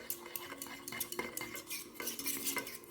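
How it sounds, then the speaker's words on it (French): A utensil stirs a mixture in a bowl, giving quiet, close, rhythmic scraping and clinking strokes with no voices. "Et on mélange bien, on mélange bien, on mélange bien, on mélange bien."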